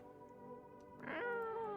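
A cat meows in the video game No, I'm Not Human, a soft drawn-out tonal cry that swells louder and rises in pitch partway through, with no talk.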